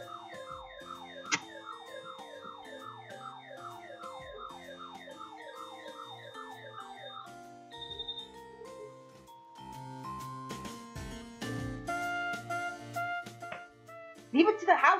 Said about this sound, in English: Leave it to the house alarm to go off during recordings.